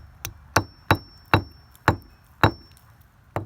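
Hammer blows driving fasteners into an exterior wall while installing an outdoor electrical receptacle, six sharp close strikes at a steady, slightly uneven pace with brief decays between them.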